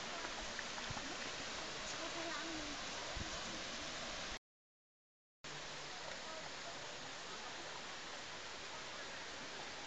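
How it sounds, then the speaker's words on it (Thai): Huay Kaew waterfall near Chiang Mai pours in a continuous, dense roar of falling water, close and even, broken once by a brief dead silence before the rush resumes unchanged. "น้ำตกห้วยแก้วนะครับห้วยแก้ว"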